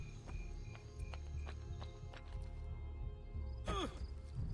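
Horse hooves clip-clopping in the video game Assassin's Creed II, a rhythmic series of sharp hoof clops at close range over a low background hum, with a whinny-like burst near the end.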